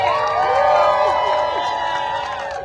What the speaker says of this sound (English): Give it up for this amazing crowd we have here today.